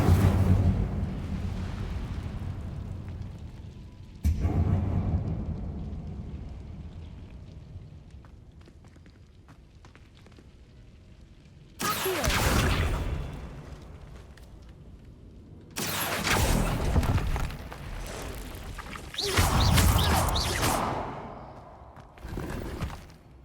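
An Incendio fire spell cast in Hogwarts Legacy: a few loud whooshing, roaring bursts of flame, each a second or two long, separated by quieter stretches, with no talk over them.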